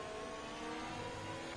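Haas Formula 1 cars racing in an Emilia Romagna Grand Prix esports league game: a continuous engine whine and roar, fairly faint and steady, with no one speaking.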